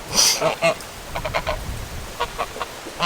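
Ducks call in a series of short nasal honks and quacks, one loud burst near the start and several smaller ones that follow, mid-distance over outdoor farmyard noise with a faint background voice.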